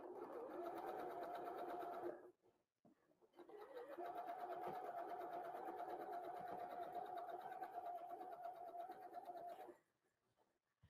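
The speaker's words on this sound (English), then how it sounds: "you can just sew that 1/4 inch." A sewing machine stitches a quarter-inch seam on a quilt block in two steady, close runs of even mechanical whirring, separated by a short pause and ending in quiet.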